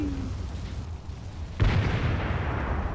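Video game explosion in Resident Evil 6: a sudden loud boom cuts in partway through and leaves a sustained rumbling roar.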